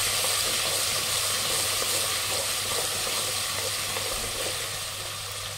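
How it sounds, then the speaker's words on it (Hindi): Ginger and garlic fry in a pan with a constant, even hiss that holds steady and fades slightly toward the end. "और इसी में डालेंगे अदरक लहसुन फिर तो इसको तो थोड़ा भून लेंगे"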